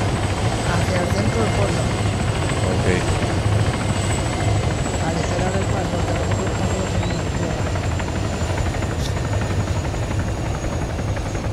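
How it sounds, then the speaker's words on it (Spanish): A military helicopter in ArmA 3 runs with a loud, constant rotor chop and turbine whine, filling the scene at close range without pause, with no one talking over it. "Todos al primer helicóptero que ha embarcado, a ver cuántos caben."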